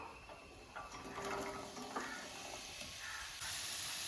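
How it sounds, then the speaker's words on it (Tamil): Beans, carrots and potatoes tip into a hot frying pan for vegetable dum biryani, giving a soft, steady sizzle with light scraping and stirring, faint and without speech. "இப்போ இதில் பீன்ஸு, கேரட்டு, உருளைக்கிழங்கு எல்லாத்தையும் இதில் நம்ம ஒன்றா சேர்த்துருவோம்"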